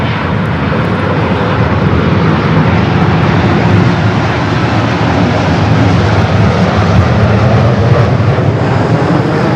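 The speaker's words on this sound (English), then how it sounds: "First of two flights coming in from Amsterdam, both Dreamliners with KLM." KLM Boeing Dreamliner jet arriving at LAX from Amsterdam, a loud, steady broadband engine roar that holds nearly constant, close and unbroken throughout.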